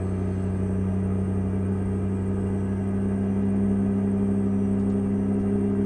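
A truck engine in American Truck Simulator runs at around 1500 RPM, giving a steady, loud, low rumbling drone that barely changes in pitch or volume throughout.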